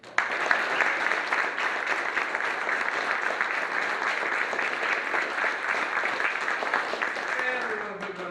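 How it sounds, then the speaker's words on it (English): Steady crowd applause at a Nashville seminar, dense and even clapping from many hands lasting about eight seconds, with faint voices near the end. "Give them a round of applause."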